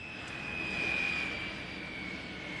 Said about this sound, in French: Mon décollage ce matin, je vais décoller la piste 2-4 droite en route vers le nord pour Puvirnituk.